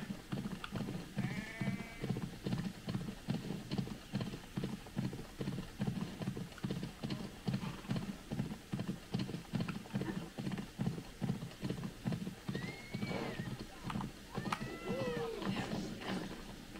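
Galloping horse in Assassin's Creed Odyssey, a steady fast rhythm of hoofbeats running throughout, close and even, with a few faint whistling or animal calls rising over it.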